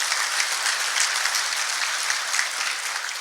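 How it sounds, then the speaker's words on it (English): Steady audience applause at an industry panel discussion, a dense continuous wash of many hands clapping, fairly loud and even throughout with no talk over it. "Give him a round of applause."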